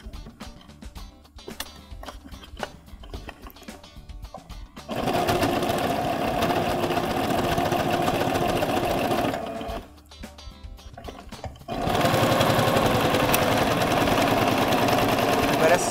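Sewing machine stitching the seam of a fabric makeup bag, running in two steady whirring stretches of several seconds each, loud and close, with quieter handling sounds between them.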